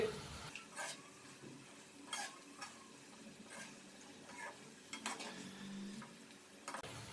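Green chickpeas and potatoes are stirred in a pot for pulao, giving a soft steady sizzle broken by a handful of distinct spoon scrapes and clinks against the metal.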